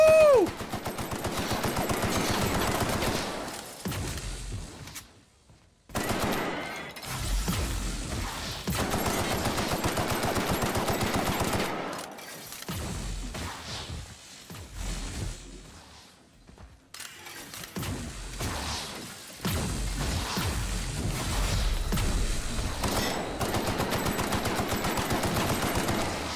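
Enemy gunfire in The Outer Worlds, long rapid automatic bursts broken by short pauses, loud and close throughout the fight.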